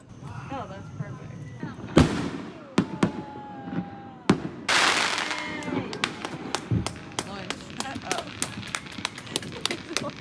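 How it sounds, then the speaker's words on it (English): A backyard fireworks show at an Ozarks birthday celebration on the Fourth of July, with loud sharp bangs and crackling bursts. A whistling rocket rises before the bursts, and people cheer and talk throughout. "And now we're gonna do a fireworks show."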